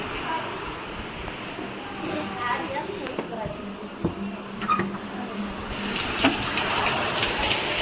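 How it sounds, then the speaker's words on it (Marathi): A heavy wash of rain gushes outside, a constant roar with occasional clatters, while a person talks over it. "असा जोरदार पाऊस सुरू आहे बाहेर"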